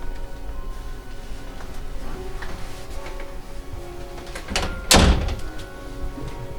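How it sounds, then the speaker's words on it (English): A door in an old house thumps shut once, a single sharp close knock standing out against a quiet, faintly humming room with soft scattered ticks. "I'm gonna shut this door."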